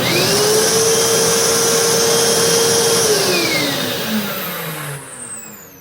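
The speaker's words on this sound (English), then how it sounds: "And the Eureka the Boss Smart Vac." Eureka Boss Smart Vac vacuum cleaner running in hose mode, a loud steady whine with a sustained tone that drops in pitch near the end as the motor winds down.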